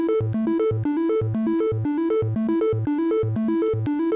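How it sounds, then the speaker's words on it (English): A synthesized flute patch from the Serum synthesizer repeats a short looping melodic phrase over steady, evenly spaced low pulses, bright and sustained with no voices. "I played a flute from the same Serum."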